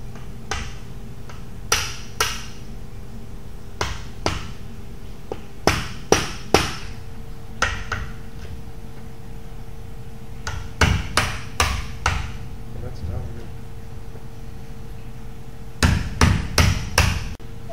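Hammer blows drive a chisel into a cow skull near the occipital condyle during brain removal, sharp close strikes coming in clusters of two to four with pauses between, and no talk.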